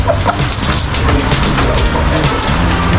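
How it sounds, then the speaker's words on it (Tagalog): Steady rain pours down heavily, a dense continuous hiss of drops striking a surface, close and loud with no break. "umuulan"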